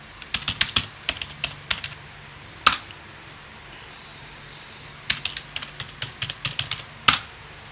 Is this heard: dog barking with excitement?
no